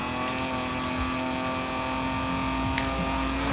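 Race car engine in the Forza video game, a steady droning hum with a sustained tonal whine, holding a constant level with no talk.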